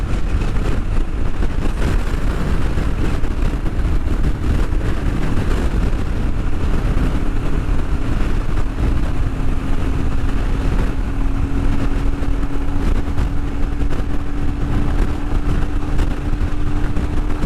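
Motorcycle cruising on an Arizona interstate in strong gusty wind, a steady loud engine drone and rising tone buried under constant heavy wind roar across the whole stretch, with no talking.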